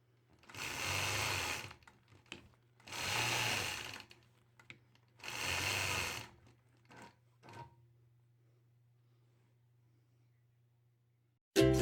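A sewing machine quilts a shield quilt block in three whirring bursts of fast stitching, each about a second long, followed by a few short quick stitches against a faint steady hum.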